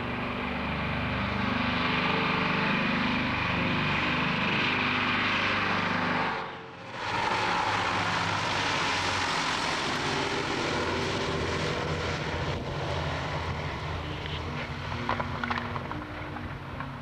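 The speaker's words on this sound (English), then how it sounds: "the eventual landing of what was to be the first aeroplane to land on Lord Howe Island's runway" A propeller aeroplane landing on the Lord Howe Island runway roars steadily nearby in severe gusts, engine drone loud and continuous with a brief dip partway, then rumbling on as it rolls along.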